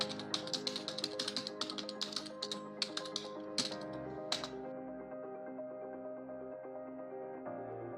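Quick bursts of clattering keystrokes on a computer keyboard while a command is entered, close and clicky, then trailing off into quieter background tone.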